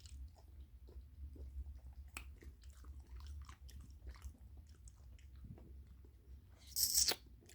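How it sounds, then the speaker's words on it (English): A pit bull puppy chews a treat with soft, irregular crunching and gnawing at close range, steady through the clip with a louder crunch near the end. "Chew, chew, chew."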